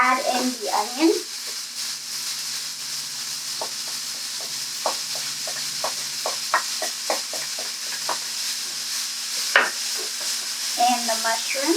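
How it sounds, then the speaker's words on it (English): Onion sautéing and being stirred in a pan for vegan tacos, a light sizzle with a run of quick spatula taps in the middle, close, with brief talk at the start and end. "you can start to go ahead and add in the onion"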